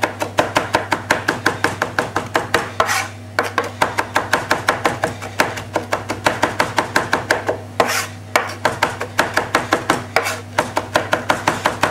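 A knife rocking rapidly through parsley on a cutting board, a fast run of crisp, even taps in quick bursts separated by brief pauses, close and clear with no talking.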